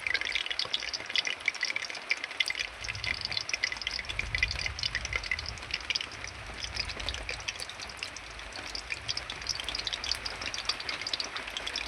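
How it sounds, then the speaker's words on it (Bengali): Heavy rain falls steadily, a dense, faint hiss of drops on surfaces lasting throughout, with a low rumble joining after the first few seconds. "আমাদের এখানে খুব বৃষ্টি হচ্ছে"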